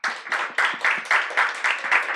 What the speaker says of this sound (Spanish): los agradecemos a los 3 con un aplauso